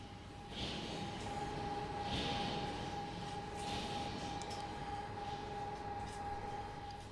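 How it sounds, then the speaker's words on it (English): A train rolls over a level crossing in Farming Simulator 17, a continuous rumble of rail cars running under a steady high warning tone, with periodic swells of clatter, moderately distant and with no voices. "we've got a train over crossing here"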